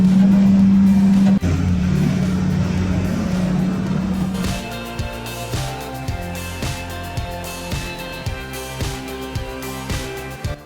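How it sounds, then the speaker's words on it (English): A Caterpillar D8K dozer pushes a loaded log truck up a steep logging road near Coos Bay, with a loud steady diesel drone that drops into rhythmic repeated engine pulses. "A powerful Caterpillar D8K dozer assisting a log truck up a steep logging road in the Coos Bay region"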